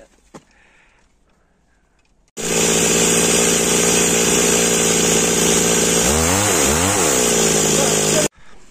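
A loud chainsaw runs steadily for about six seconds while felling poplar and oak trees, its engine pitch dipping and rising under load near the end before cutting off abruptly, with quiet outdoor ambience before and after.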